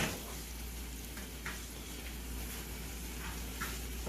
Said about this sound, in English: I'm gonna let this saute up